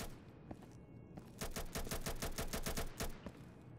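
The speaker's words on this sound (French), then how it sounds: "Je sais pas d'où ça tire." Rapid automatic gunfire in the tactical shooter game Insurgency, a fast burst of evenly spaced shots lasting over a second after a few scattered single reports, fairly quiet and heard without talk.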